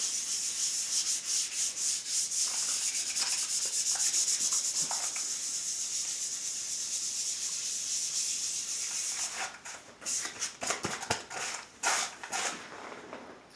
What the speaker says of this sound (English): As you do a couple of strokes on the sandpaper, you'll find the high spots and the low spots.